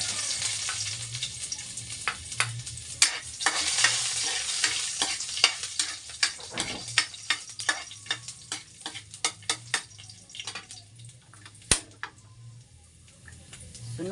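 Garlic frying in a small home kitchen pan, a steady sizzle with clinks and stirring taps of a utensil throughout, moderately close and alone.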